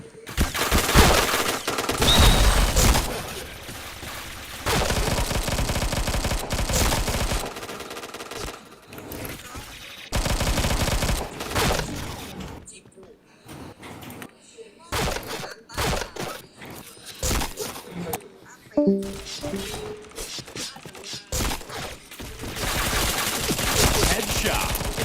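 Rapid gunfire from a shooter video game rattles in loud bursts and volleys, with short pauses between firefights and faint voices here and there.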